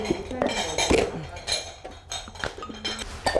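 Dishes, bowls and cutlery clink and clatter repeatedly while a kitchen is cleared out, close and busy with irregular knocks, with some brief talk mixed in.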